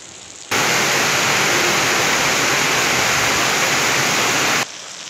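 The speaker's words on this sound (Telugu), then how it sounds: "కుండపోత వర్షం గ్రామాలు పట్టణాలు చెరువులను తలపిస్తున్నాయి" A torrential downpour of rain, a loud unbroken roaring hiss of heavy water that starts abruptly and holds steady for about four seconds before cutting back to a quieter background.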